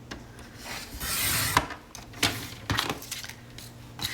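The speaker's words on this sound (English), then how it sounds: "So we want to take our straight edge, and we just want to trim down our design." A blade is drawn along a straight edge to trim sublimation design paper: close rasping scrapes and rubs in short strokes, broken by a few small taps and knocks.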